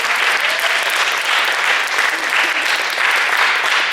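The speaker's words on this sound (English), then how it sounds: "to a big round of applause from your friends" An audience at a high school post-prom show breaks into sustained, dense applause, a loud, even wash of many hands clapping that holds for four seconds with a few voices faintly underneath.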